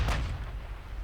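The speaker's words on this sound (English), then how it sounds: "I know I have a battlecruiser firing at her already" Battlecruiser guns firing in the naval battle game Ultimate Admiral Dreadnoughts: a single heavy booming artillery blast with a deep low rumble that rolls on and fades over about a second, no talk.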